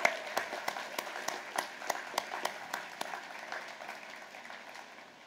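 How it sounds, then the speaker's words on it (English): Audience applause at a university convocation welcoming freshmen and sophomores, with the marching band present: scattered, fairly sparse clapping with individual sharp claps standing out, fading gradually toward the end. "Please join me in a round of applause."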